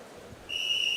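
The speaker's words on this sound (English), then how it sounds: "There we get the whistle." A sharp, high referee's whistle blast at a high school swim meet starts halfway through and holds steadily, clear against faint background hum.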